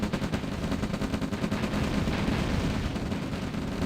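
Rapid gunfire bouncing off tanks in OpenRA Red Alert, a dense, continuous rattle of shots that stays loud and steady throughout.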